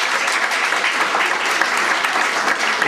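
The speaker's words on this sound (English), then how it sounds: "I think the children should give him a really big clap as he goes outside." Children clap together in a steady dense burst of applause at an Easter celebration for a boy, sustained evenly and close by throughout.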